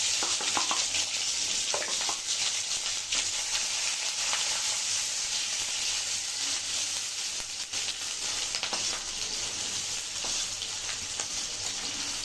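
Dried chilies crackle in hot oil for a carrot, cauliflower and potato bhaji, a dense, even sizzle heard close and steady with faint scattered pops and no talk.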